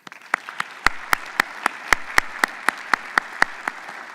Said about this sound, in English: join me in giving me a round of applause to these three presenters here